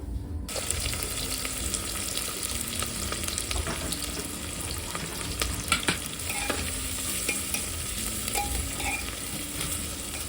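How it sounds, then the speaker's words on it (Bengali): Onion frying in hot oil with whole garam masala, with a continuous close sizzle and bubbling crackle plus occasional stirring clinks and scrapes, steady throughout with no talk. "এবারে পেঁয়াজটা হালকা ভাজা হয়ে গেছে।"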